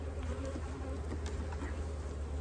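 A steady, dense buzzing of many honey bees close by at a queenless hive, continuous and even throughout with a low hum underneath.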